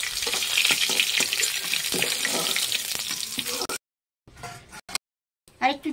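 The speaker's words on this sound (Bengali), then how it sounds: "মাছগুলো আমার ভাজা হচ্ছে" Fish sizzle and crackle in hot oil in a pan, a loud, dense frying hiss for several seconds before it cuts off abruptly, followed by quieter scattered kitchen sounds.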